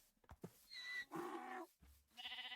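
Sheep bleat in the Minecraft video game, several wavering calls in quick succession, fairly close and clear, with a short low thump between them and no one talking.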